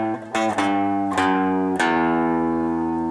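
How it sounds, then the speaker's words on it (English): Low bass notes on a guitar's sixth string walking down without palm muting in a song part, several plucks that ring out open and sustained, the last note decaying slowly, close and clear with no voice. "If you don't palm mute, it sounds like this."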